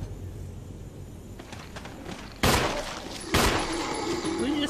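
Gunfire in Resident Evil HD Remaster, with two loud close shots about a second apart standing out over low game ambience and a muttering voice.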